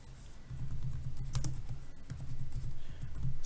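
Computer keyboard keys are pressed one at a time in a slow, irregular sequence while a macro is recorded, the individual taps close and crisp over a low background hum, with no talking.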